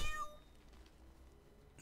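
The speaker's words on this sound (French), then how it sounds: "Un chat!" A cat meows in the video game South Park: The Stick of Truth, one short game-audio cry at the start followed by quiet background ambience.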